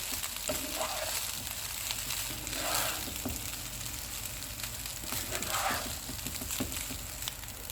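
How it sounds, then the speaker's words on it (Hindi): Rice being stirred and fried with garlic, black pepper and salt in a pan sizzles steadily throughout, with a few soft scraping stirs rising above the constant frying hiss. "अब इसमें चावल डाल देंगे, इनको मिक्स कर देंगे।"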